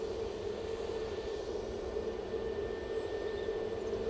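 A Jet2 passenger jet taxis at Manchester Airport before departing for Palma de Mallorca, its engines giving a steady, broad roar with a faint high whine that holds evenly throughout.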